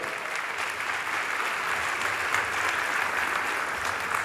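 A large audience at the opening ceremony of the 41st Istanbul Film Festival applauds steadily as a speaker is welcomed onstage, an even wash of many clapping hands in a big hall.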